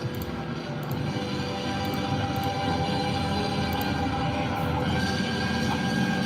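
A train rolls past with a steady rumbling roar, faint metallic squeals and clicks riding on top, continuous and fairly close.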